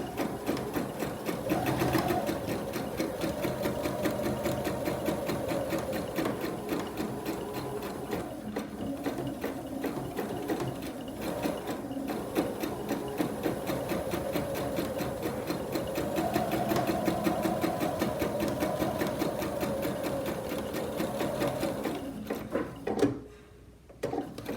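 A serger sewing machine runs steadily while stitching a fabric face mask, a continuous close mechanical whir with rapid needle chatter for over twenty seconds before stopping abruptly near the end.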